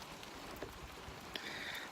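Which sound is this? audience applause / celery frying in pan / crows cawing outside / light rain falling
light rain falling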